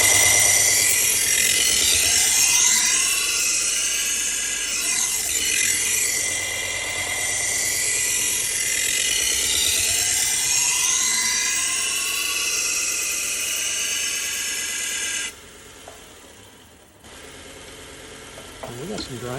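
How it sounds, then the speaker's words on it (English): A butcher knife grinds against a heavy 120 grit belt on a belt grinder, a loud continuous abrasive whine with shifting pitch as the blade passes, stopping briefly near the end. "We got some grinding to do."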